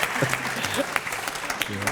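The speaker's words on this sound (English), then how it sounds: "Can we have a round of applause?" Audience at a Royal Society public talk on biodiversity giving a round of applause, steady crowd clapping throughout with a voice speaking over it in places.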